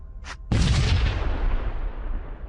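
Missile volley firing in the space strategy video game Sunrider: Mask of Arcadius: a brief whoosh, then a loud booming launch blast with a long rumbling decay, heard alone.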